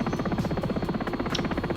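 Sikorsky S76 helicopter in the X-Plane 11 flight simulator, a steady rhythmic rotor chop with a buzzing turbine whine, moderately loud and continuous, with no talking.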